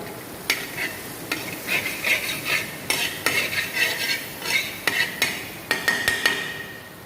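Garlic sautéing in butter in a pan over low to medium heat for a classic club sandwich, with a steady soft sizzle and repeated close scraping and clinks of a utensil stirring against the pan, no talking.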